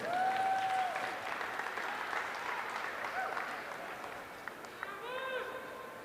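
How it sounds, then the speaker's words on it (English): An audience at a county fair livestock show applauds, steady clapping from a crowd under an announcer's voice, with whistles and livestock or crowd calls cutting in briefly. "let's give these kids one more round of applause."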